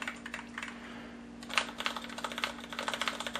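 Rapid, soft tapping of linear mechanical keys on a Corsair K90 Vengeance keyboard, steady typing bursts with no loud clicks, close by and fairly quiet.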